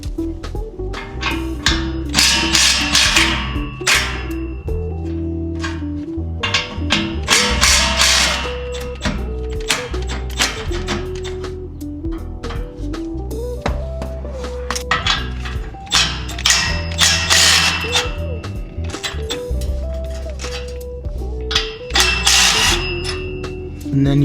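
Ratchet wrench working 15 mm exhaust bolts under a Camaro ZL1 during a catback install, rapid repeated clicking bursts in quick back-and-forth strokes, loud and close, with pauses between runs.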